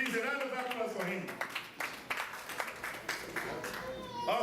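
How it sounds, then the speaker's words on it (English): Audience applause at an Ezi Umuada Igbo induction ceremony, a broad patter of claps mixed with crowd noise that runs through the whole stretch, with a voice talking over it. "Please, a round of applause for him."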